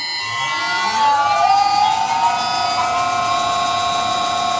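A vintage metal lathe spins up toward 1000 RPM, its motor and spindle whine rising steadily in pitch over a few seconds before levelling off into a loud, continuous tonal hum with no talking.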